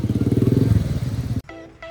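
A motorcycle passes on a crowded road with a close, pulsing engine putter that ends sharply and gives way to quieter background sound.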